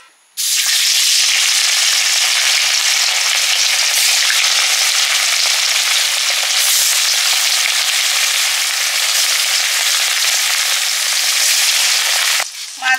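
Small chuno fish sizzle steadily in hot oil, a loud continuous bright crackle that holds from start to finish with no voices over it.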